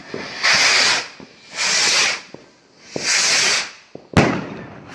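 New 2021 Skyhunters consumer fireworks fired in the UK on New Year's Eve: three long rushing hisses with crackling and faint pops between, then a sharp loud bang, heard nearby outdoors.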